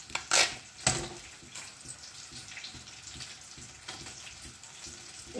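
Spices spattering and sizzling in hot oil as turmeric goes in, with two sharp crackling bursts near the start settling into a steady, close fry.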